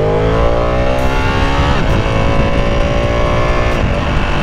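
A Ducati Panigale V2 sport bike accelerating hard, its engine note climbing in steady upward sweeps with quick-shifter gear changes breaking the rise, loud and close throughout.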